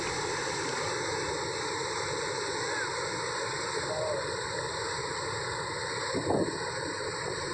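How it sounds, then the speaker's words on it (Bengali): Water rushing steadily out of a rocky gorge at Ghaghra waterfall in Belpahari during the monsoon, a constant broad roar with a short louder splash near the end. "কলসির থেকে জল ঢালার মতো গিরিখাতের গর্তের মধ্য থেকে জল বেরোতে থাকে।"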